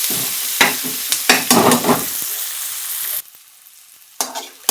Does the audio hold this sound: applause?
no